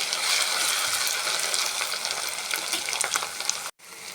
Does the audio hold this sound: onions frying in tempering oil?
yes